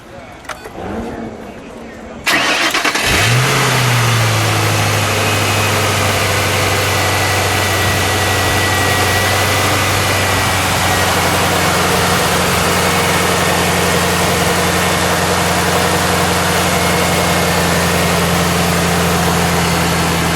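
A 2007 Ford Mustang Shelby GT V8 turns over and catches after a couple of quiet seconds, then settles into a steady, deep idle that hums on without change.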